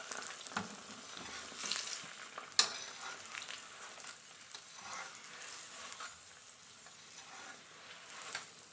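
Cauliflower paratha fries gently in desi ghee over a slow flame, giving a soft, steady sizzle at low volume with a few small crackles and one sharp tap.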